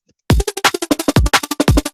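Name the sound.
shaker layered with a vocal in a music mix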